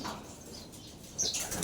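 Racing pigeon wings flapping close by, a soft rapid fluttering over faint outdoor background, growing a little louder near the end.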